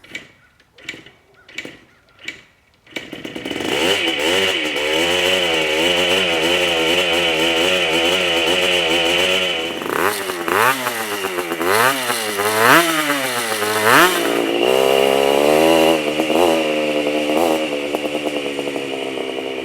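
A 1978 Honda CR125 two-stroke motorcycle engine, freshly restored with new piston and rings, takes a few sharp kicks and then fires up, buzzing loudly up close and revving up and down repeatedly.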